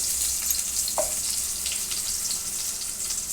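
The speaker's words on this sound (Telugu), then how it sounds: "ఉల్లిగడ్డ వేస్తున్నానండి" Onion frying in hot oil in a pan for an aloo gravy, an even close sizzle with a single brief clink near the start.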